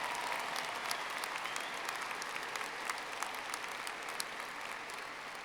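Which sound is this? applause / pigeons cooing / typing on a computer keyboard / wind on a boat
applause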